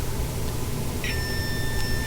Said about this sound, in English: we've got that little buzzer going